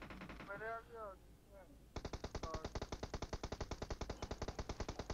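Rapid automatic gunfire from PUBG Mobile on the Livik map breaks out after a short stretch of speech, then hammers on in a dense, steady burst of close, loud shots to the end.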